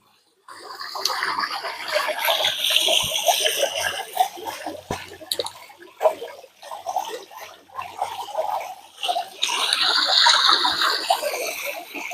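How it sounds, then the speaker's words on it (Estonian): Water from an archaic witchcraft fountain splashes and gurgles steadily, close and fairly loud, with uneven bursts of spray and bubbling continuing throughout. "Siin ees on ka arhailise nõiduse purskkaev."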